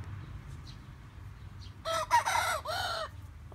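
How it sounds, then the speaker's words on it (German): A Thuringian rooster crows once, loud and close, in a drawn-out call of several pulsing segments after a quiet stretch of low background noise. "als Kräher, als krähender Thüringer. Das war jetzt eben er wieder."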